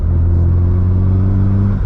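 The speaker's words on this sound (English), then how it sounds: "I really like the sound of this car, especially after the AWE exhaust." Loud, steady low engine drone from a Ford Focus RS with an AWE exhaust, a deep rumbling hum held at constant revs for about two seconds.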